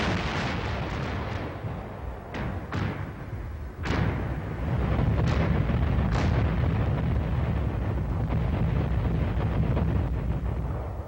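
Battlefield artillery fire booms out in several sharp, heavy blasts over a continuous roar of wind and rumble, with the bursts spaced irregularly and no voices present.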